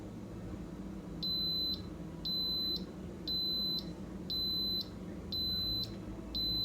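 An Instant Pot gives a series of six evenly spaced, high-pitched electronic beeps, each about half a second long, loud and clear over a quiet kitchen background.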